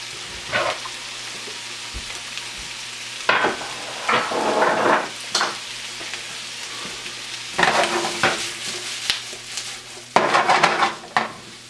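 Garlic and pancetta sizzle steadily in olive oil in a pan, with several louder bursts of frying and stirring clatter over the constant hiss, no voices present.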